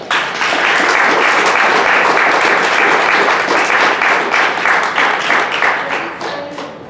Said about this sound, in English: Now let's give her a big applause.